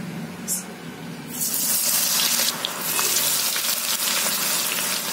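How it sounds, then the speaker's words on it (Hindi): Potatoes dropped into hot oil start frying with a loud, close, steady sizzle that swells after a quieter start and keeps hissing to the end. "तेल को हमने पहले ही गर्म होने रख दिया था। अब डालेंगे हम इसमें ये आलू।"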